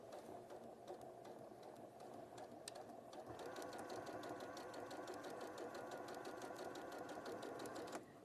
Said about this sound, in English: we're going to stitch along here.